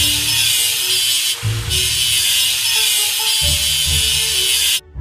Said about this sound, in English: Let's grind the welding seam.